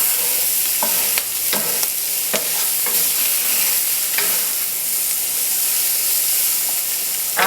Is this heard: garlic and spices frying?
yes